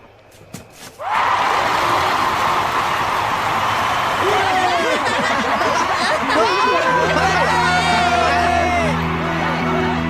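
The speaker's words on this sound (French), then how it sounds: "tu entends, tout le monde nous acclame" A loud crowd cheers for the winning team after a football match in the Inazuma Eleven cartoon, sustained roaring and whooping that swells suddenly and holds steady, with scattered individual shouts rising above the mass.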